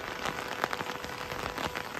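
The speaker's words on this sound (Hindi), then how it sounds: "बारिश ना बहुत ज़्यादा तेज़ हो चुकी है" Heavy rain pouring on a mountain trek at Bedni Bugyal, a dense, steady hiss of drops pattering close on surfaces with no talking.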